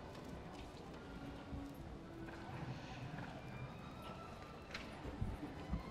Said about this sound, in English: Anjanette doing a really good job on this young horse all the way from Queensland